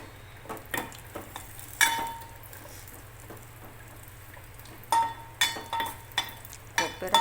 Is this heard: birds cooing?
no